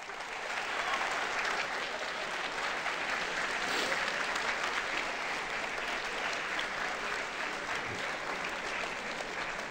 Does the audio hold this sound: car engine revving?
no